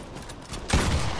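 A sudden burst of gunfire in the Fortnite video game, loud and fairly close, following a softer stretch of background game sound.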